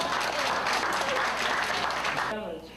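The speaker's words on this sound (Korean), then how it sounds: "다 같이 축하하는 의미에서 박수로" A group of examinees at a motorcycle licence test in Bukasam-myeon, Chilgok County, in 2000 gets a round of dense, even applause for passing. A voice talks over the clapping before it tapers off at the end.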